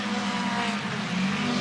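Mini 850 race cars at Mondello Park, a loud, close, continuous engine roar and whine as the small cars race by, with no talk.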